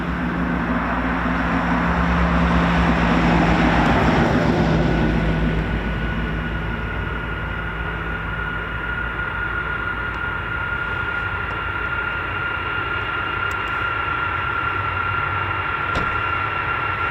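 A US Air Force KC-135 jet tanker roars past at RAF Mildenhall, a loud, broad jet rumble swelling then fading into a sustained distant whine and drone, no voices.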